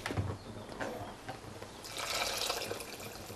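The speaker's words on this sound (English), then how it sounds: "Now we add the water to create the gravy." Hot water poured from a mug into a dry soy mince and aubergine curry mixture to make gravy; a close, splashy pour that swells into a steady rush after a brief lead-in of clatter.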